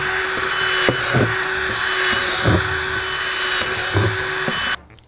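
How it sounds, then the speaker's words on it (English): A power drill whines steadily at close range while boring air holes in a plastic 5-gallon bucket lid, with several short bursts as the bit cuts through before the motor stops abruptly near the end. "And drill some air holes in your lid."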